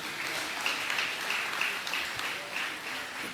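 Audience applause fills a hall at a Nagarathar association gathering in Tiruvottiyur, Chennai: steady, moderately loud clapping that holds evenly for a few seconds with no voices over it.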